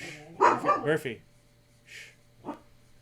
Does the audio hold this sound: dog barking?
yes